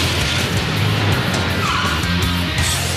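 A car revs hard and its tires squeal and skid as it speeds straight toward a person, loud and close throughout, with no voices.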